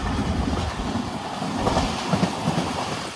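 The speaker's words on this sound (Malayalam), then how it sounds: "ട്രെയിൻ ഇപ്പോൾ കർണാടകയിലേക്ക് എത്തിയേ." The Panchaganga Express rolls along the rails between Goa and Bengaluru into Karnataka, heard from inside as a loud, steady rumble with faint clacking wheel beats throughout.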